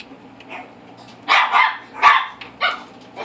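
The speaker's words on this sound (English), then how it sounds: "Apparently, I can't get away from the barking dogs." Several sharp dog barks in short bursts, a couple close together, then a pause and another bark, against a quiet background.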